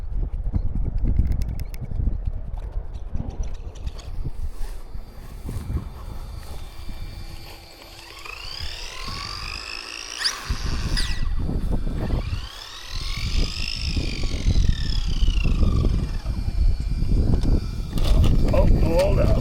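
A Tamiya Hornet RC car whines at full throttle, its motor rising in sweeping pitch bursts that climb and fall amid outdoor background noise, with people talking nearby.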